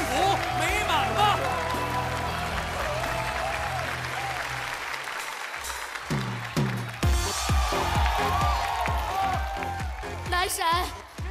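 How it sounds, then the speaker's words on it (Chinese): Audience applause breaks out for a couple on stage during a comedy sketch show, sustained clapping from a crowd with voices and music mixed in, loud and steady before livelier bursts near the end. "让我们用掌声恭祝这对情侣幸福美满吧"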